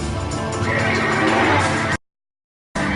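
Horses neigh loudly and close, a harsh whinnying burst with hoof clatter for about two seconds, then silence before the sound resumes briefly.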